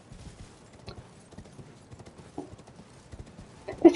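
Horse hooves clip-clop in a fantasy action game, heading toward the underground Eternal City of Nokron, a run of soft, fairly faint irregular steps with a louder burst near the end.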